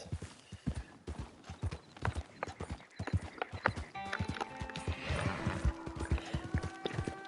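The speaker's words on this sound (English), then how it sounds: "your horse definitely does not like going through the cactus" A horse in Red Dead Redemption 2 clip-clops through cactus country with steady, close hoofbeats, then lets out a loud whinny while its hooves keep thudding underneath.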